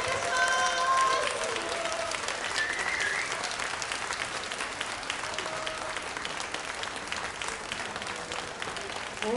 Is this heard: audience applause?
yes